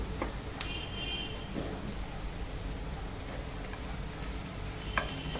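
Browned onion slices frying in a pan give a continuous crackling sizzle, with a few sharp utensil clinks as they are stirred; no speech.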